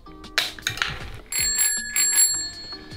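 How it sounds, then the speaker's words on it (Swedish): A bicycle bell being fitted to a bike rings in several bright metallic bursts, with clear ringing tones that sustain and decay between strikes, close and fairly loud. "På med ringklockan."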